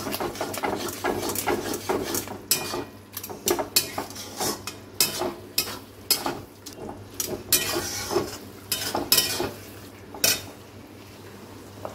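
Minced meat and soaked spices being stirred and fried in a pan, with repeated metallic scraping and clinks of a utensil against the pan, steady and close, under a soft low hum.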